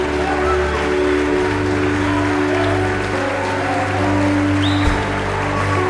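An audience at a sermon applauding, a steady, moderately loud wash of clapping that carries on throughout, with a low hum underneath.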